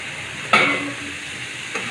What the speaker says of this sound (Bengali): এখানে আমি ভেন্ডি দিয়ে দিয়েছি। আর এখানে আমার ভেন্ডিটা একটু সিদ্ধ হচ্ছে।